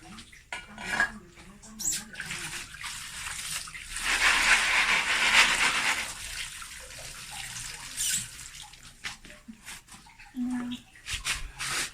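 Freshwater snails being washed in a basin of water at night during a power cut: sloshing and splashing, shells and pots clattering, a surge of running water midway, and someone talking intermittently over it.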